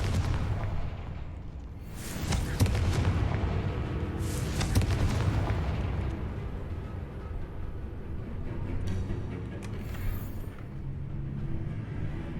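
A Confringo spell fires in the video game Hogwarts Legacy, with booming explosive bursts and sharp blasts spread across several seconds at moderate loudness.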